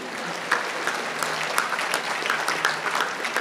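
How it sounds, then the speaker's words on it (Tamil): Steady applause from a congregation at Our Lady of Lourdes Shrine in Perambur after the Perambur choir sings, a dense even patter of many hands at moderate distance, with little talk. "கைதட்டு."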